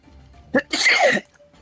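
A single sharp sneeze, a quick intake followed by a loud burst, close to the listener.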